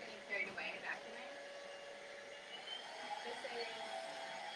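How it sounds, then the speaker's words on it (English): A white DEERMA VC01 cordless stick vacuum runs with a steady, close whirring hum throughout, with brief bumps of handling near the start and no talk over it. "And now I'm just getting carried away vacuuming."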